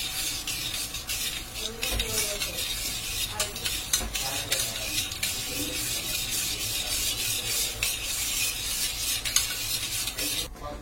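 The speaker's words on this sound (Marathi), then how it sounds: "आता आपण ती साखर छान दुधात विरघळवून घ्यायची आहे" A spoon scrapes and swirls steadily through milk and sugar in a pan, a continuous close rasping stir with rhythmic strokes and no voice over it.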